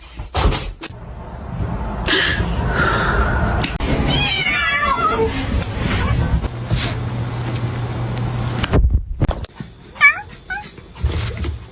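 A house cat called Macaroni gives several short meows and whiny cries amid rustling and bumps, with a person talking nearby between the calls.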